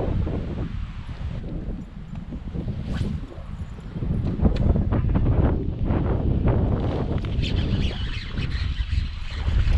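Gusting wind buffets the microphone on open water during kayak bass fishing on a windy day, a steady loud broadband rush that swells and surges throughout with no voices.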